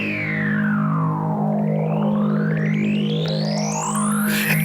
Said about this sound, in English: Let's play with the cutoff.